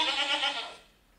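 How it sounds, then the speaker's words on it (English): One goat gives a single short, bright bleat that fades out after about a second, heard alone. "So, it's a goat"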